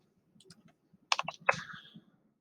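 Computer keyboard hotkeys pressed while working in Onshape CAD software: a few faint taps, then a quick cluster of sharper close clicks near the middle, fading out, with no talking.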